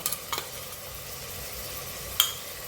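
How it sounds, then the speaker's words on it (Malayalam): Crushed green chili, ginger and garlic go into a pan for ghee rice and beef, with a few quick scraping stirs early on, a soft sizzle underneath and a sharp metallic clink near the end, without any talking. "ഇനി നമുക്ക് പച്ചമുളകും ഇഞ്ചും വെളുത്തുള്ളിയും കൂടി ഞാൻ ഇവിടെ ചതച്ച് വെച്ചിരുന്നത് ഇട്ട് കൊടുക്കാൻ പോകട്ടോ"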